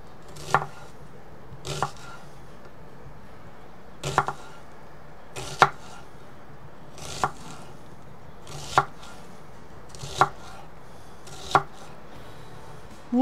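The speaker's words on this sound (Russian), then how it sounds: "лук режем полукольцами" Knife chopping onion into half rings on a cutting board while preparing a family meal cooked in a saj pan: about nine sharp, evenly spaced chops, close and distinct against a quiet kitchen background.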